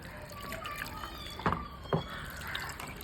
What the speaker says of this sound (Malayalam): ഇനി ഇതിലേക്ക് നമുക്ക് ആവശ്യത്തിന് വെള്ളം കൂടെ ഒന്ന് ഒഴിച്ച് കൊടുക്കാവേ.